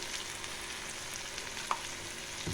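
Brinjal and tomato curry being stirred after chili powder and roasted coriander powder go in, with a soft continuous sizzle, faint scraping and one sharp utensil knock near the end; no talking.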